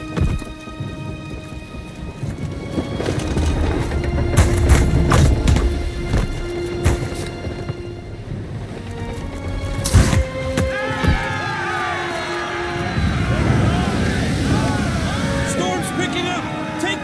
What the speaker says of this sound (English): Storm's picking up! Take cover!